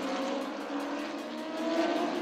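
Stock Car race cars gather on the grid before the second race of a 2021 round, their engines giving a steady, broad mechanical drone at moderate distance that swells slightly near the end, with no talk over it.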